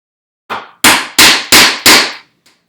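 A wood chisel is driven with sharp, loud blows to chop a mortise for bookcase joinery: a softer opening strike, then four hard hits in quick, even succession, each ringing briefly, and a faint final tap.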